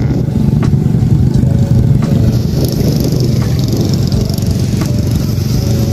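A Kawasaki Ninja sport motorcycle modified into a trail bike runs loud and close outdoors near Mount Bromo, its engine rumbling steadily with light revving throughout.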